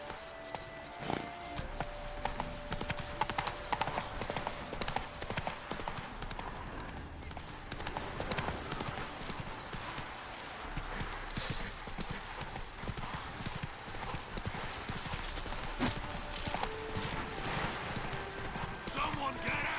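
Roach, Geralt's horse in The Witcher 3, galloping with rapid clip-clopping hoofbeats under dense game music and action noise, a voice speaking over it.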